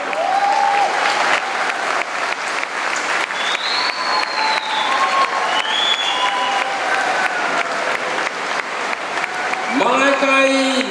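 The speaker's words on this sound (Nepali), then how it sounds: "तपाईँहरूको होलसेलमा ताली जाओस् न हो" A worship concert audience in Pokhara claps in sustained, dense applause with scattered whoops. A voice rises over it near the end.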